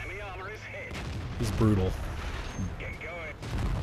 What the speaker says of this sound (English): See some of the crossfire and enfilading fire that's going on.